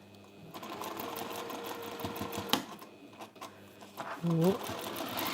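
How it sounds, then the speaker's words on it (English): A sewing machine runs steadily while top stitching a seam on a folded fat quarter fabric bag, a continuous mechanical whir close by, with a brief spoken exclamation near the end. "I'm going to sew top stitch kind of in from the edge of my seam"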